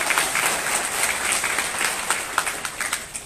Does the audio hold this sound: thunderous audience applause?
yes